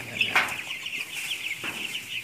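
Broiler chickens on a farm, thirsty and waiting for drinking water, cluck softly and steadily at close range, with one brief louder squawk.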